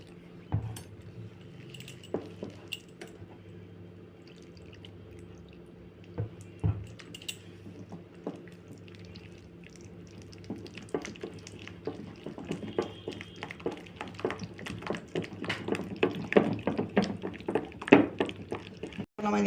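Flour and water batter for vegetable chops is stirred in a bowl, soft wet clicking and tapping strokes that start sparse and grow faster and louder toward the end.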